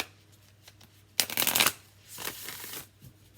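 Marquetti Tarot cards being shuffled, with one loud riffling burst followed by a softer second shuffle, close and alone with no talking.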